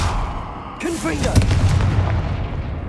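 Confringo blasting-spell explosion in the Hogwarts Legacy video game. A spoken spell is followed by a loud, booming blast with a rumbling tail.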